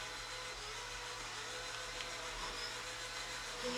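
Hacked Roomba robot vacuum cleaning up sprinkles, a steady close motor whir and hum with faint scattered rattles, alone and continuous.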